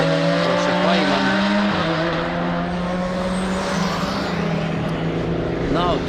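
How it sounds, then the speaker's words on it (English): Porsche Cayman race cars at full racing speed on a circuit in Riga, with loud sustained engine drone, shifting pitch and a brief tire squeal, continuous and close under a commentator's talk. "So it means that Slimas, well, this is third Porsche in this race, number 4 Porsche Cayman."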